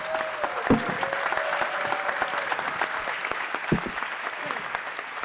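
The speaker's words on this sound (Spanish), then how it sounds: "se merece un gran aplauso por parte de todos." A live audience gives sustained applause for the director at a television show event, with dense clapping throughout and a few louder thumps and scattered voices mixed in.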